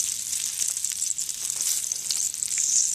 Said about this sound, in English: my bacon's getting good and crispy there